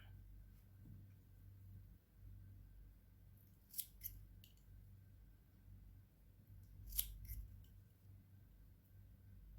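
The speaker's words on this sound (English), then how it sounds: "you can cut the yarn" Scissors snip through yarn after a crocheted coaster is finished, two faint quick cuts a few seconds apart against a low, quiet background hum.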